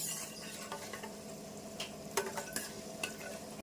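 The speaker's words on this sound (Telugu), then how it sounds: "అయితే చిటిపట్టలు ఆడుతున్నాయి కదా." Spices and black pepper sputter in hot oil for a pilot fish head curry, a soft steady sizzle broken by several sharp crackling pops, with faint stirring sounds and no speech.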